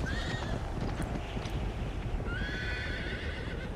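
Horse neighs twice in the Uncharted 3 video game, a high whinny near the start and another around the middle, over steady galloping hoofbeats and a dense rumbling background.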